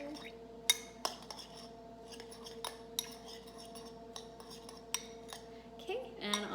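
A utensil stirring butter into cooked rice: scattered light clinks and taps of metal on a dish at irregular intervals over a quiet hum, ending in a brief rattling scrape, close and faint.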